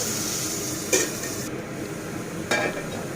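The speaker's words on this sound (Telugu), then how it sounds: "ఈ ఆనియన్స్ని గోల్డెన్ బ్రౌన్ వచ్చేంత వరకు బాగా వేయించుకోవాలి" Onions and green chillies frying in a pan, a steady hiss of sizzling throughout with two brief scraping stirs about a second and a half apart.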